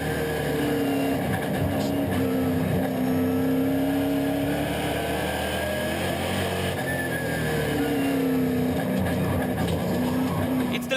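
A NASCAR Euro series stock car at full throttle on the final lap, its engine droning loud and steady from onboard, with rising and falling pitch through gear changes and no let-up across the run.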